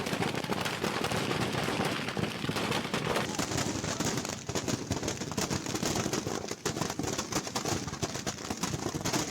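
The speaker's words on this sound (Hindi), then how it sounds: "दुकान में एक के बाद एक धमाके हुए" Firecrackers burst in dense, continuous crackling bursts inside a burning fireworks shop, a loud, unbroken barrage of pops and bangs with no voices.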